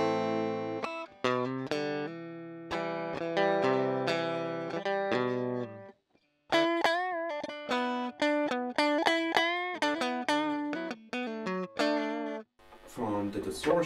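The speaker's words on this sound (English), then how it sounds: "dry signal from the guitar is this." Clean, unprocessed electric guitar dry signal plays a run of plucked notes and chords, clear and bright, with a short pause midway and a scrape at the end.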